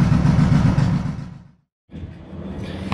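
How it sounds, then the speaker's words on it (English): Car engine idling close by during a Cobra Fi2000 fuel controller install, a loud low rumble that fades out, drops to a brief silence, then returns more softly. "if you couldn't hear over the engine noise"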